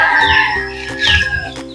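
Native chickens cluck and call together at feeding time in a roomy range under mango trees, several birds close by with overlapping bursts.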